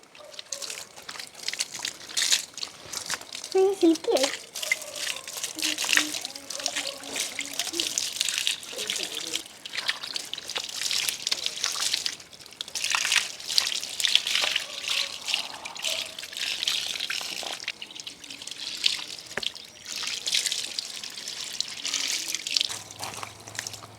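Cold well water is poured and splashed over hair during rinsing, making a continuous close trickling and splattering with small drips and uneven surges throughout.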